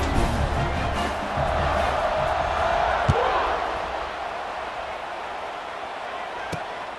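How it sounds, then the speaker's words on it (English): Stadium crowd noise from the EA Sports College Football 26 video game after a score, a steady broad roar that fades a little toward the end, with a couple of sharp thuds near the middle and near the end. "this crowd is buzzing after that last score"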